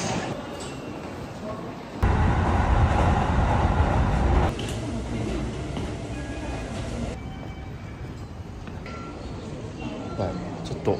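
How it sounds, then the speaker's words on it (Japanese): Kintetsu electric train ride toward Ise in Mie, a steady rumbling cabin drone with a louder surge early on, continuous rolling noise and faint passing clatter throughout. "今から近鉄の電車に乗って"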